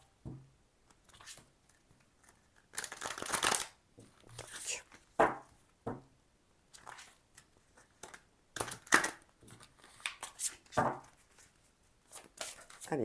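Lenormand cards being shuffled in bursts of papery riffling and slapping, close and fairly loud, with short pauses between handfuls and no talking.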